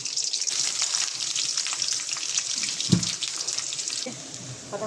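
Green chilies drop into hot oil and set off a loud, bright crackling sizzle that holds steady. A single thump comes midway, then the frying eases slightly toward the end, with no talking.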